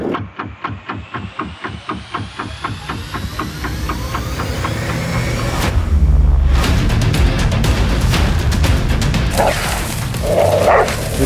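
Rapid, loud barking from pig dogs during a wild boar hunt in Australia, a fast regular run of barks that gives way to a dense, noisy scuffle and rustling close by.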